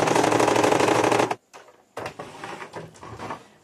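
A sewing machine stitches a straight seam in fabric with a dense, loud whirring rattle that stops abruptly, followed by softer intermittent clicks and fabric handling.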